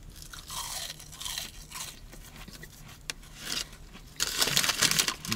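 Crunchy chewing of carnival fries close to the mouth, irregular bites and mastication with a few louder crisp bursts, no talking.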